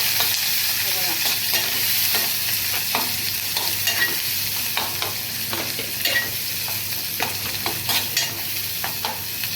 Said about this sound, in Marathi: तर आता टाकूया मिरची कांदा मस्त भाजी तेल टाकूया